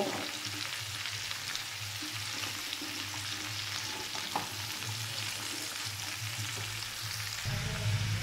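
Turnip stirred in a frying pan with salt and turmeric, a steady low sizzle with soft scraping throughout, moderately quiet and close, with a brief louder clatter near the end.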